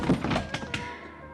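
A single solid thunk of a car door slamming in a radio drama scene, close and full-bodied, followed by a short ringing decay.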